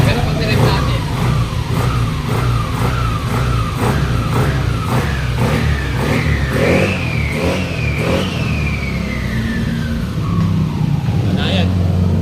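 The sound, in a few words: car engine revving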